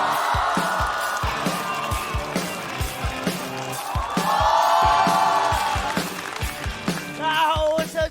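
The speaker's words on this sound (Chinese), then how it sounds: "掌声有请小佳。" A stand-up comedy audience claps in a fast rhythmic beat and swells into cheers and whoops as a comedian is welcomed onstage, loud and continuous throughout.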